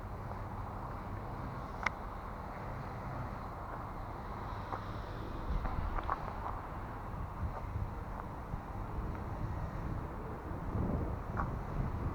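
Wind buffets and rumbles against the microphone in a low, steady roar, with a few small knocks and no talking.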